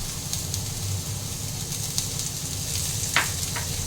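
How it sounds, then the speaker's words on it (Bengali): Chopped onion hits a pan of frying jackfruit seeds and potato, giving a steady close sizzle under a low hum from the stove, with a sharp crackle near the end. "পেঁয়াজ কুচিটা এতে দিয়ে দিলাম"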